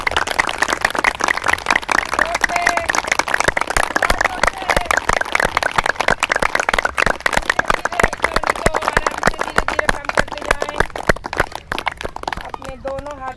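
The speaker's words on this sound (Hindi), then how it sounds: "ताली वादन और तेज करते जाएंगे," A group of people in a yoga class claps hands together, the dense, rapid claps quickening steadily throughout, with voices chanting alongside.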